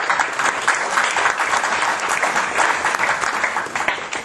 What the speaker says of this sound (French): je vous demande d'applaudir le Flash